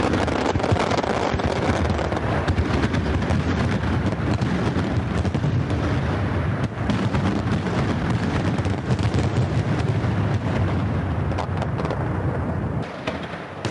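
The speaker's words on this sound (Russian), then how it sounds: "Празднования референдума в столице республики завершились фейерверком" Continuous dense booming and crackling from a fireworks display over a city, loud and sustained with rumbling bursts blending together, no voices.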